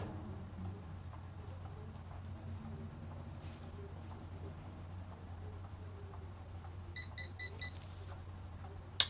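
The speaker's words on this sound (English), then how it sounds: "I'm just gonna let it sit there till it beeps" A Chi 1-inch ceramic spin-and-curl iron gives a quick cluster of short, high electronic beeps near the end to signal it is done, over a low steady hum.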